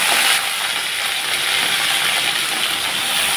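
Vegetables are dropped into hot oil already frying dried red chilli and five-spice seeds, with a loud burst of sizzle at first that settles into a steady, close, hissing fry, with no voices.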